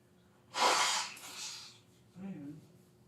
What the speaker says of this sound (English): I'm going to blow my nose real quick